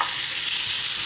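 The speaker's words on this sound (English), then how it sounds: "I'm going to add in the bacon to this pan" Bacon hitting a hot frying pan with softened onions, a steady loud sizzle and crackle filling the short stretch with no talking.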